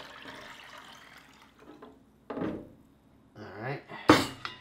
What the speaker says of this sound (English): Now we're gonna add in this other 4 cups of heated.